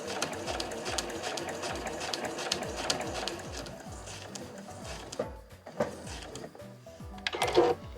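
A home sewing machine stitches a quilted tote bag in a rapid, even mechanical patter up close, with a short pause and some handling clatter near the end.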